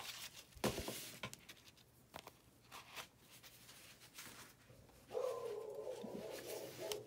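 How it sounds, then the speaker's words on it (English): A few distant dog barks, faint and sporadic, over a quiet room with a low steady hum. "dog barking."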